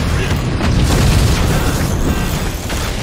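A rocket explosion in Forts fills the space with a loud, sustained, rumbling boom that barely eases over three seconds, thick with low-end roar.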